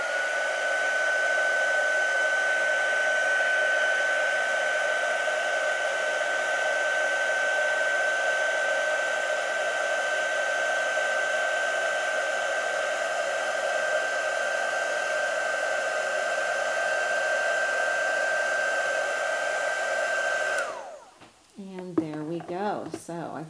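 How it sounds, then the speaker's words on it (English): A heat tool blows a steady, loud whooshing hum for about twenty seconds as it melts gold embossing powder on a craft card, with a high whine running through it, then cuts off and a voice begins speaking. "And then I'll just bring in my heat tool and melt that embossing powder."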